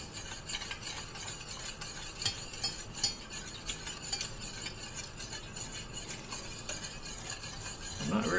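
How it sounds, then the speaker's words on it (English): Lemon meringue pie filling stirred steadily in a pot on the stove, a continuous close scraping swirl with a soft sizzle, a faint clink of the utensil against the metal, and no talk. "you stir until your arm falls off"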